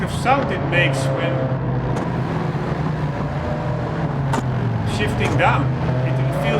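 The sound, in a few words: race car downshifting in Gran Turismo 7 video game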